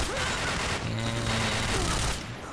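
Gunfire in a competitive online shooter match, a dense steady barrage of shots filling the whole stretch, loud and continuous, with voices faint beneath it.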